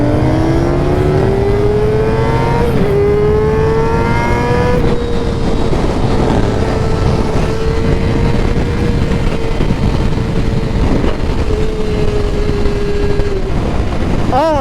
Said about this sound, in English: I think I've been redlining the fuck out of this bike.